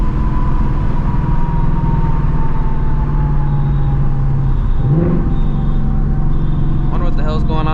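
A 500HP 2024 Mustang GT running loud and close with a steady, heavy engine drone, a pitch sweep near the middle, and a brief rising rev burst at the end.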